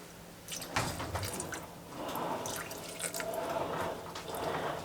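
Water poured from a container into a bread dough mixture that already holds white wine and cognac, giving a steady close trickle with dripping and splashing sounds that last for several seconds without any talk.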